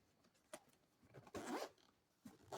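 A zipper on the pouch case of a DEPSTECH DS380 inspection camera pulled open in a few short quick strokes, close and crisp, with quiet pauses between.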